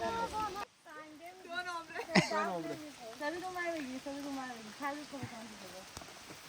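Heavy rain falls on a forest campsite, a steady soft patter running beneath people talking close by, with a couple of brief thuds.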